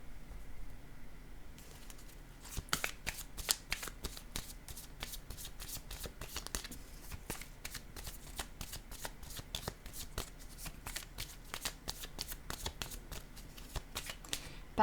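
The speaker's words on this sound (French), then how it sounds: "je vais déposer une carte sur joie." Playing cards are handled and shuffled, a long run of quick crisp riffling flicks and soft slaps, close and fairly quiet, continuing throughout with no talking.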